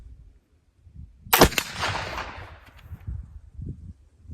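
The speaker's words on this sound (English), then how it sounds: "Okay, last shot with the 3F Swiss." A single sharp black powder rifle shot fired with 3F Swiss powder bursts out loud and close, followed by a long rolling decay and echo that fades under faint background noise.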